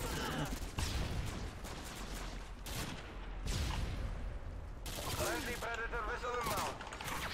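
Rapid gunfire bursts in Call of Duty Modern Warfare 2 on PS3, repeated sharp cracks and booms in quick succession over game noise, with a voice talking partway through.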